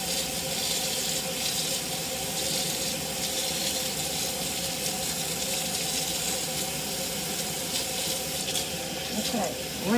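Running water rinses natural hair during a wash, producing a continuous steady splashing rush of tap water close by, with faint voices at moments.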